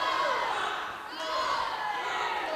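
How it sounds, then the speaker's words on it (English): A high school swim team cheers at a dual swim meet in an echoing indoor pool, with loud continuous shouting and whooping from a crowd that dips briefly and then swells again. "Hear us cheering, and I think it's for Emma Landry, lane 6."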